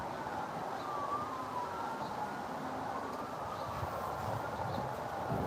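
Ambulance siren outside, a faint wavering wail drifting from a distance over steady background hum, continuing throughout without any nearby talk.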